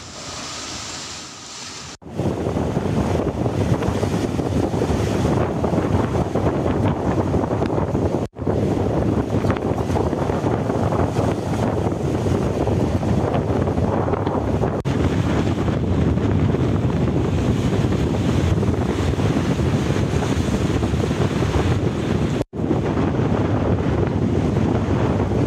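High ocean waves pound a residential coastline, a loud, continuous roar of surf under heavy wind buffeting the microphone, with a few abrupt cuts and no voices.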